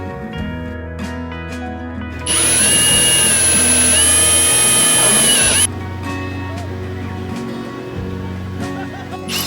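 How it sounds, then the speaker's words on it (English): A power drill whines loudly at a steady pitch for about three seconds while drilling a pilot hole in metal, then spins down, with workshop noise before and after. "I punch marked it, then drilled a pilot hole."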